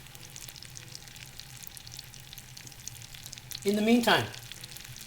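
Chicken breasts frying in a hot pan make a steady, faint sizzle under a voice, then a brief louder crackle near the end.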